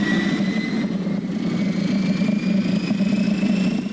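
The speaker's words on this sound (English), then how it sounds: "Finally, the starter took hold and got the engines running." Vehicle engines run steadily after starting, a loud, even low rumble with a faint high whine on top and no speech.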